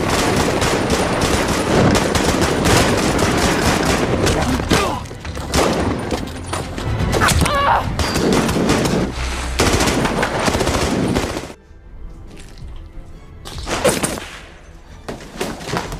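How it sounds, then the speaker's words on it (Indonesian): Gunfire from a sniper action film battle scene: dense, rapid automatic bursts and sharp single shots crackle loudly for about eleven seconds, then drop to sparser, quieter shots and a few isolated cracks over a hushed background. "Namun sialnya, Danny terkena tembakan dan Henry yang sudah kehabisan peluru"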